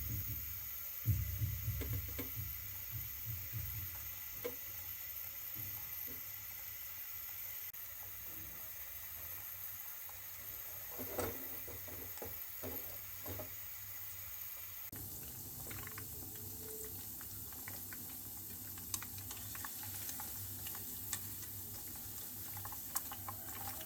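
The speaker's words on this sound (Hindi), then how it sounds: "लो फ्लेम पर चिकन चीज़ बॉल को फ्राई करेंगे।" Chicken cheese balls fry in hot oil over a low flame, giving a quiet, steady sizzle and soft bubbling with scattered small pops and no talking.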